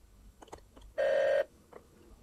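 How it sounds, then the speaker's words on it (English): A telephone dials a call in a demonstration of an Erlang-based phone system: one loud, steady electronic tone lasting about half a second, preceded and followed by faint, soft taps. "I'm going to make a call to Robert"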